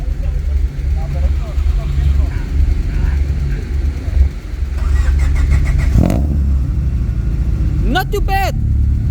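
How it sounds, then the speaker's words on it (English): A Honda VTEC car engine idles on a dyno with a steady, loud low rumble that continues throughout, with brief rev-like rises near the end and voices audible over it. "just check out the car idles"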